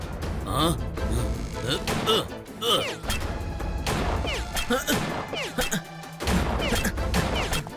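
Bursts of gunfire crack repeatedly amid crashing impacts and whooshes in a chaotic action scene from a Tamil television serial, with voices shouting among the shots.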